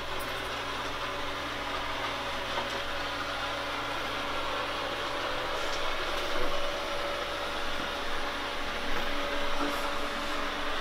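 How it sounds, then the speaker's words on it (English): A robot vacuum cleaner runs steadily, a continuous mechanical whir and brush hum that stays level with slight swells, close by and without talk. "It goes to the charging pad by itself after it's done vacuuming."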